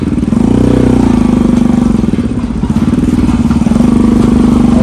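A motorcycle rides along a mountain road toward a hidden waterfall in Taplejung, Nepal, its engine droning loud and steady throughout, with a continuous low throb and faint rattling from the rough track.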